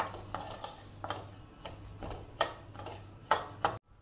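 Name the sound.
moong dal being dry-roasted and stirred in a pan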